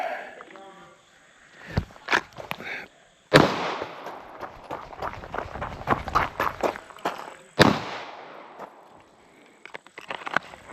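Sharp gunshots at an outdoor shooting range, a few loud cracks spaced several seconds apart with a distant popping between them, under nearby talking.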